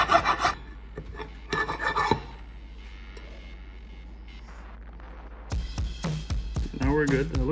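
Rust being scrubbed off a Hyundai Tucson brake caliper bracket, with harsh rasping strokes in two bursts at the start and again near the end, close and fairly loud, separated by a quieter pause.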